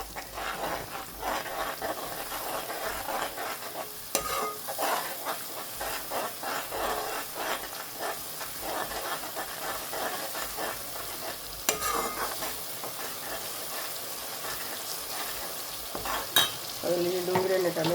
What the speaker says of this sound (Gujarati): થોડીક વાર ફેરવતી રહેવાનું છે.